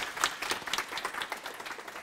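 Audience applause fills a conference hall after a technical talk on unikernels, a dense, steady patter of many hands clapping close and fairly loud for about two seconds.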